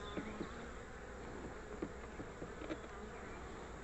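Honey bees in an open hive make a dense, continuous buzz close by, with a few brief louder passes as individual bees fly near, and nobody speaking.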